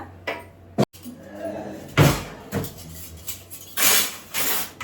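Washed steel utensils are set down one after another to dry in a home kitchen, giving a few loud metallic clanks and knocks with quieter pauses between them.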